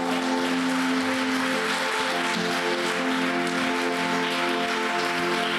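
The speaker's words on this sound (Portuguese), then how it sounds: "Você pode aplaudir o Senhor?" Sustained applause from a church congregation praising the Lord at a Wednesday service, a steady dense wash of clapping with no gaps and no clear talk over it.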